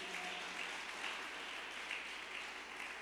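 A church congregation claps, making a soft, steady, distant wash of applause that holds evenly throughout with no voices on top.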